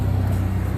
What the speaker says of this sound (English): Here comes an armoured vehicle.